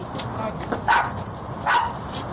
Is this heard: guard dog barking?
yes